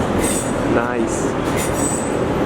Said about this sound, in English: Let's look at the train come by.